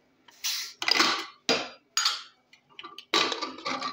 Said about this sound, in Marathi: आपण आता कुकरचं झाकण काढून घेऊया।